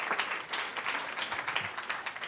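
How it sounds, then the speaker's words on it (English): Steady applause from a crowd, dense clapping throughout at an even, moderate loudness. "Let's all give a big round of applause for Niels."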